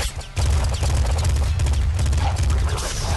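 Enemy gunfire in the top-down shooter Nuclear Throne: a dense, continuous clatter of rapid shots and booms that starts just after a brief lull and runs steadily to the end.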